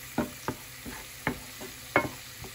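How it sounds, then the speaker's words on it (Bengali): Spice paste stirred into fried onions in a pan for a shrimp, tomato and butternut squash curry, with a bay leaf added; a quiet sizzle broken by five or six sharp scraping stirs at a steady pace, no voices. "ভাজা পেঁয়াজের মধ্যে গোলানো স্পাইসেসগুলো দিয়ে দিচ্ছি।"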